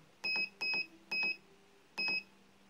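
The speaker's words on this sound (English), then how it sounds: "You'll hear two beeps." Four short electronic beeps from a fingerprint keyless door lock keypad, the first three close together and the last after a brief pause, clear and close with no talking.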